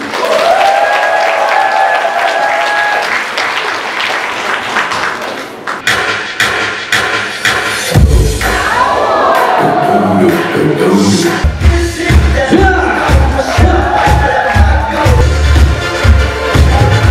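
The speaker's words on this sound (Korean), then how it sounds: "박수 부탁합니다" Concert audience claps loudly and at length at the start of a stage performance, a dense near crowd of applause with a few thumps and some cheering mixed in.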